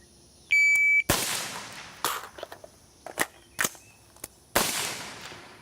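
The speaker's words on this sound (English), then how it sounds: "on the buzzer, I just simply want you to shoot, reload, shoot using the thumb method" A shot timer beeps, then a handgun fires one loud shot, followed by clicks and clatter of a magazine reload done with the thumb method and another sharp shot, all close and outdoors with no talking.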